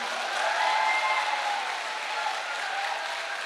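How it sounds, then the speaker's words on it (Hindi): Audience clapping in a hall at a health awareness program, a steady wash of applause filling the whole stretch at moderate level with no voices over it. "और इसके लिए तो ताली बजा दो।"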